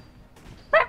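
A single dog bark in the shooter game Titanfall comes as one short sharp yelp at the end, after a quiet, low background.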